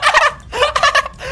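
A bird in the Roblox game Bloxburg gives a few quick gobbling, turkey-like calls in two close bursts, loud and near, with no talk over them.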